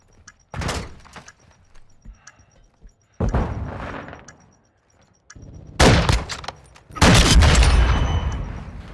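Planted explosive devices detonating in Call of Duty: Modern Warfare II: four separate heavy blasts a few seconds apart, each a sharp boom with a rumbling tail, the last two the loudest.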